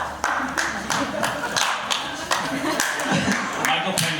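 Press-conference audience applause at the Deauville festival for War on Everyone, a sustained patter of clapping from many hands mixed with voices speaking over it.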